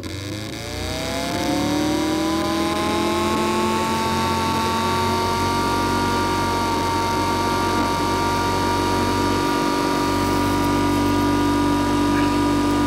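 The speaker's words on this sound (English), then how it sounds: "pogledajte moj ultra brzi pulsni motor koji sam napravio" A homemade ultra-fast pulse motor whirs steadily, a sustained rising-then-level mechanical tone that spins up in the first seconds and runs loud and continuous, with no talk over it.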